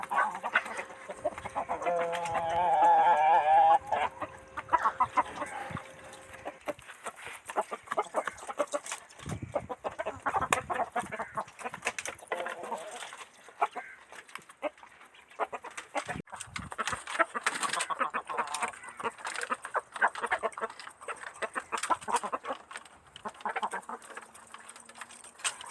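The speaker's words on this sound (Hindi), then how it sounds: "व्यूअर्स माशाल्लाह से बहुत ही प्यारे मुर्गे हैं इनके पास" Aseel chickens and roosters in a hen house give a burst of close, busy clucking at first, then settle into scattered, softer clucks and rustling from the flock.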